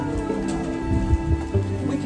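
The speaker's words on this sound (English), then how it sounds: "It is starting to rain." Steady patter of rain with scattered drops hitting a surface, continuous and fairly close, no voices.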